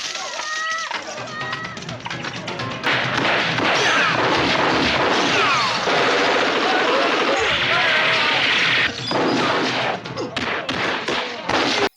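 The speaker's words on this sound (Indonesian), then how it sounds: "mereka terciduk dan aksi tembak-tembakan pun terjadi" Gunfire erupts in a film shootout after a police raid on an arms-smuggling deal, with loud, dense thuds and cracks layered over music and other commotion that runs almost continuously, and voices heard in the mix.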